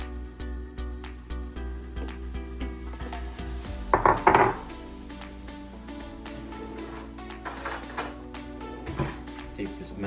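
A fork scrapes and fluffs cooked rice in a shrimp rice bowl, with light metallic clinks and taps against the bowl, one louder cluster of scraping midway, close and fairly quiet.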